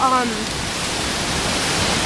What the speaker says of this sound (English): So we're here at the waterfall.